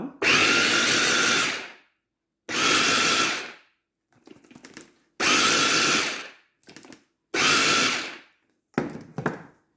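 A blender pulses almond powder for macarons in repeated bursts of about 1.5 seconds each, loud and close, with short quieter whirring and rattling between pulses.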